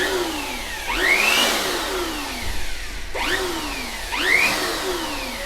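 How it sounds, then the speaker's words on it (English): A Jakmister 600W electric air blower runs in short bursts, each one rising into a loud whooshing motor whine and then winding down, repeating three times in quick succession. "Now I'm not continuously blowing the air because it kind of smells bad, like kind of a burning sound, because it's too powerful"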